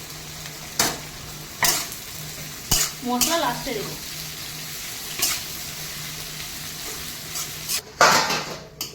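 Ridge gourd with onions and green chillies frying in a pan, a low steady sizzle broken by several sharp scrapes and knocks of a spatula stirring against the pan, with brief speech partway through.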